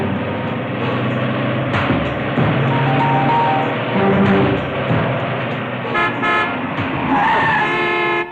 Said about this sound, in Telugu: హారన్ కొడుతూనే వస్తున్నానుగా